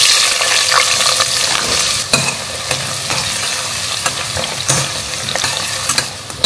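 Onions frying in oil in a pan, a steady close sizzle with occasional stirring scrapes and clicks throughout, no talking.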